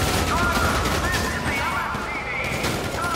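Rapid bursts of gunfire in the video game GTA Online, continuous and loud through the whole stretch, with a voice talking over the shooting.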